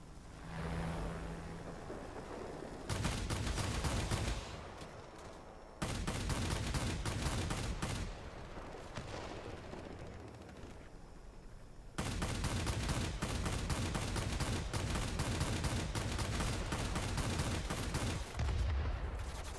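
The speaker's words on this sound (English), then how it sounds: "See when these cannons start hitting that they do huge damage." Twin cannons of a Messerschmitt Bf.109Z Zwilling fire in loud sustained bursts in World of Warplanes, several long rattling volleys separated by brief pauses over engine drone.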